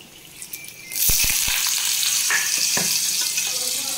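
Potatoes go into hot oil in a pan: after a quiet second a loud burst of sizzling breaks out and carries on as steady, close frying, with a few utensil clinks early on.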